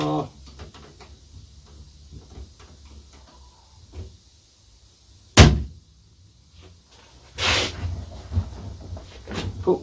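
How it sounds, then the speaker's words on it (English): A sandblasting cabinet door in a workshop shuts with one sharp, loud clunk midway, then a second heavier thud and rattle follow soon after, with quiet handling noises between. "So we'll close the door."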